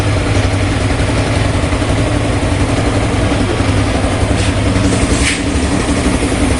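A 2016 Yamaha Jupiter motorcycle idles with a steady, even low rumble close by, its exhaust note constant throughout and no voices.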